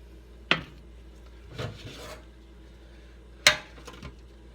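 Squash set onto a metal baking pan, heard as two sharp metallic clanks about three seconds apart with a softer rubbing scrape between them, close and otherwise quiet.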